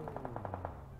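M416 assault rifle fired in PUBG Mobile, a rapid burst of about seven evenly spaced shots in under a second over a steady game background hum.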